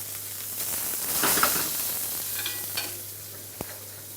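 Langoustines hit a preheated pan of hot olive oil, giving a soft, steady sizzle with a few sharp crackles and clicks scattered through it.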